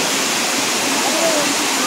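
Elephant Falls in Meghalaya roars steadily throughout, a dense, unbroken rush of falling water that sounds close and fairly loud, with no pauses or changes in intensity.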